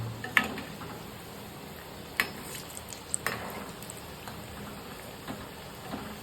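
Frozen ready-made pocket samosas fry in hot oil with a steady close sizzle, broken by scattered sharp pops and crackles, no voices.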